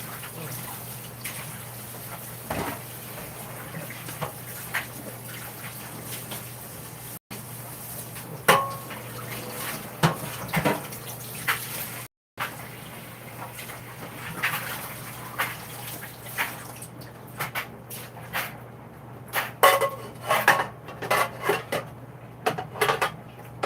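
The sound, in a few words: washing dishes with running water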